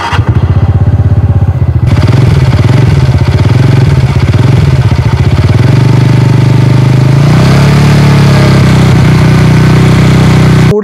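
A 2023 TVS Ntorq 125 Race Edition BS6 scooter in Marine Blue runs loud and close, holding a steady idle before the engine note rises and thickens toward the end.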